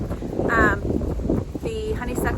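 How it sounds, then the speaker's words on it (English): Strong outdoor wind buffets the microphone in gusty low rumbles while someone talks in a garden. "it's very windy today."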